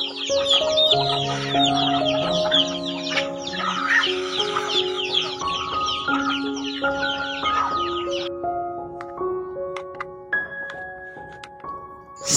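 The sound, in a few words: chickens clucking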